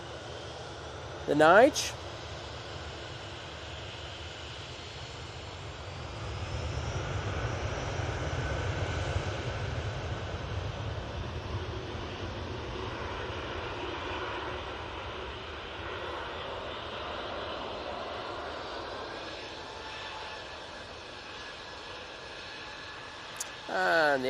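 Air Nostrum ATR turboprop landing at Manchester Airport, a fairly faint, distant engine drone that swells slightly midway and then eases, with a couple of short sharp knocks near the start and end and a brief spoken word.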